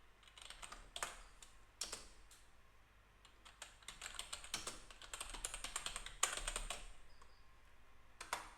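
Close fingers type on a computer keyboard in quick bursts of clicking keys, separated by short pauses, with no talking.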